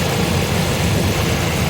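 An RV engine idling with a small exhaust leak gives a steady, loud, low rumble that fills the whole stretch without change.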